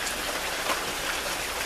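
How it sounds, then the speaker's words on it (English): Steady rain falls outdoors in California, a soft, even hiss of drops on surfaces with no voices or other sounds. "I have to put out the trash in this rain."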